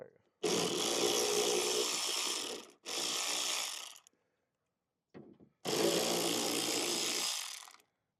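A power tool drives out 7mm bolts from the rear decklid spoiler panel of a 2024+ Ford Mustang, in three loud, close bursts of whirring with short silent gaps between them.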